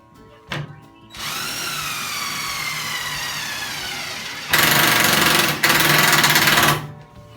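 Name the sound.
impact driver driving self-tapping screws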